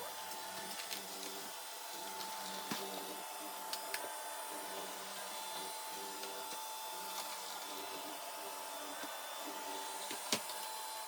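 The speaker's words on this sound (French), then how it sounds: "je viens de lancer l'aspirateur, mais cette fois-ci avec l'aspiration plus les serpillières" A Mova V50 Ultra robot vacuum vacuums and mops a floor with a steady, even motor whir and a faint high whine, dotted with occasional small ticks and knocks.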